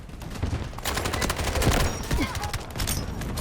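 Rapid, loud automatic fire from a modified QCQ 171 in the shooter Delta Force, dense continuous bursts of close shots with brief gaps, under faint game sounds.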